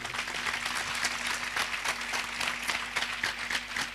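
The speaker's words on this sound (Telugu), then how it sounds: "ఒకసారి చప్పట్లు కొడతారా అండి" A congregation at a church memorial gathering claps in a continuous, slightly uneven patter. The clapping holds at moderate volume throughout, with faint voices underneath.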